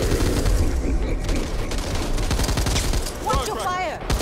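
Rapid bursts of automatic gunfire fill a zombie shooter match in Back 4 Blood, loud and dense with overlapping shots that barely let up, while players shout over the din.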